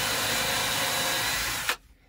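A power drill pre-drills holes in wood for a van bed platform, whirring steadily and loudly for under two seconds before it stops abruptly.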